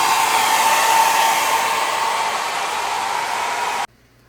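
A blow dryer on its low setting, powered by a Jackery solar generator, blows with a steady close whoosh and then cuts off abruptly near the end.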